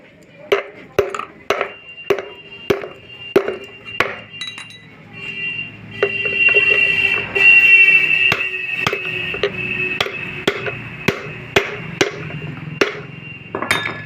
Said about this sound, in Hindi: अब चलिए इसको हम ठोक देते हैं।